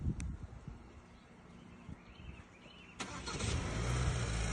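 A 2022 Hyundai Santa Cruz engine starts by remote: faint outdoor rustle and small clicks, then a sharp crank partway through and a steady idle rumble that stays up to the end.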